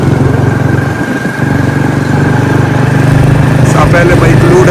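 A motorcycle engine drones steadily and loudly throughout a ride through Sapa, Vietnam, with a constant low hum and faint street noise mixed in.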